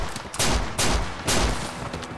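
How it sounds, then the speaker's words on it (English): Single-action revolver firing in Red Dead Redemption 2, a video game: three loud, close gunshots in steady succession, each a sharp crack with a roaring tail, and no voices. "the familiar click-bang firing pattern"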